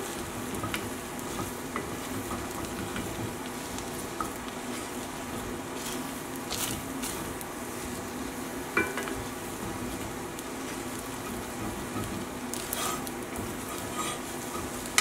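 Food sizzles steadily in a pan while a wooden spoon stirs through it, with the occasional scrape or tap against the pan over a constant frying hiss; the dish is feta and herb-crusted salmon with lemon orzo.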